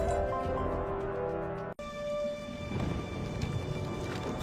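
Thunder rumbles over steady heavy rain in a fantasy video game storm, a continuous loud wash with a sharp break midway and rolling low thunder after it.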